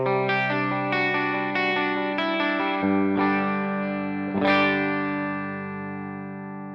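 Electric guitar played through a Two Notes Genome software Foxy amp model with a 212 Voice 30 cabinet and studio reverb: several picked chords and notes, mildly overdriven and chorused, ringing out and trailing into a long reverb tail.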